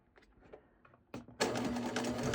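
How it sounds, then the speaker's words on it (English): After a few soft handling taps, a sewing machine starts up and runs a continuous zigzag stitch along a fabric edge, a close, steady mechanical whir. "what I do is go ahead and set this on a zigzag stitch"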